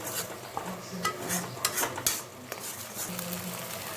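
Chili, turmeric and cumin powder spice mix is stirred and fried in a pan for jackfruit kofta curry, with a spoon scraping and clinking against metal at an irregular pace over a soft, steady sizzle.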